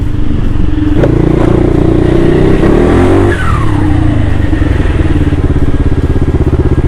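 A Honda Forza 350 scooter with a turbo and an 80 mm piston roars loudly and steadily while being ridden, the engine note climbing and shifting as it revs, with a whistling turbo-like whine rising over it midway.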